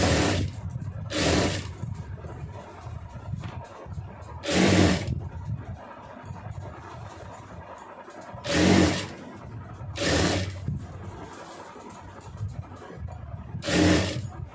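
A sewing machine stitches around a round neckline in five short bursts of fast mechanical whirring, each a few seconds long, separated by quieter pauses while the fabric is repositioned.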